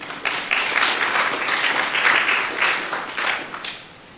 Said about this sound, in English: give Pat another round of applause in his absence